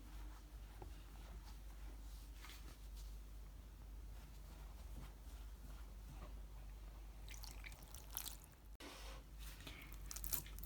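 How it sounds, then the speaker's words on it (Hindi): Soft, faint squishing and pressing as samosa dough of flour and water is kneaded by hand, with irregular wet squelches over a low steady hum. "ये देखिए मैंने इस आटा गूंथना शुरू कर दिया है इसका।"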